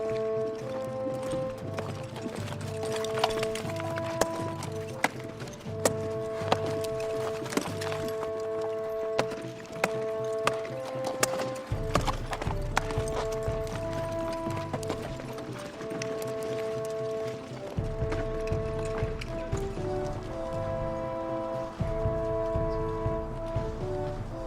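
Hooves of a horse named Matador clip-clop steadily and close, a brisk continuous rhythm of sharp knocks lasting throughout, with a low drone and faint background music underneath.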